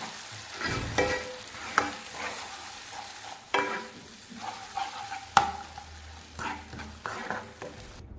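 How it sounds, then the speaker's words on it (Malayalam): Tomato puree being stirred into sautéed onions in a pan for a homemade chicken pizza sauce, with irregular scrapes and clinks of a spoon against the pan over a soft, steady sizzle, heard close up without talk. "ഇനി നമുക്ക് റെഡിയാക്കി വെച്ചിട്ടുള്ള ടൊമാറ്റോ പൂരി ഇതിലേക്ക് ഒഴിച്ചു കൊടുക്കാം എന്നിട്ട് നന്നായിട്ടൊന്നൊന്ന് മിക്സാക്കി കൊടുക്കാം"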